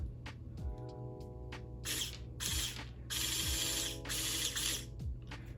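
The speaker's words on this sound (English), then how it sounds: "the reel is spinning now, so it's winding up" A motor-driven reel on a homemade web-shooter spinning and winding up, whirring in repeated bursts with ratcheting clicks and a steady mechanical hum, close and fairly quiet, alone.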